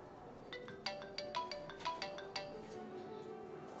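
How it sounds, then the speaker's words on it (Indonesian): A mobile phone ringtone plays a quick repeating melodic pattern of bright beeps, moderately quiet, with faint room ambience and no speech. "Permisi, saya ada telepon."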